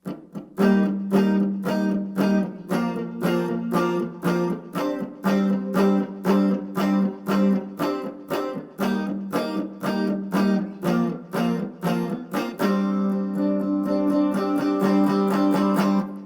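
Electric guitar playing the pre-chorus chords of a song, a steady run of short rhythmic strummed stabs, some held longer, building into denser continuous strumming at the end, close and alone.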